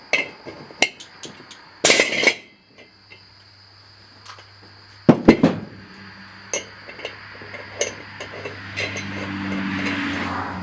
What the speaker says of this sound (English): we're going to use a 30 mil socket.